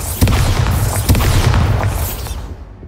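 Bombarda explosion spell cast in Hogwarts Legacy, a loud booming blast near the start followed by a second heavy burst about a second later, with low rumbling debris that fades out.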